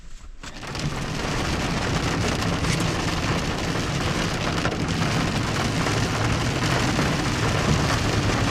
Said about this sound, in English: it's absolutely downpouring. The rain has taken over.